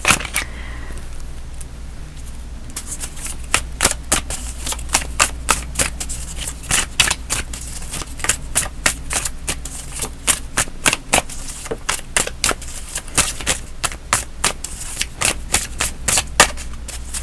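Tarot cards are shuffled by hand in a steady run of crisp, riffling flicks and taps, close and fairly quiet, with no voices.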